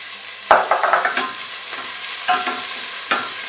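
Chopped onion and sweet pepper sautéing in a pan, a close steady sizzle broken by several bursts of stirring and scraping, with no voices.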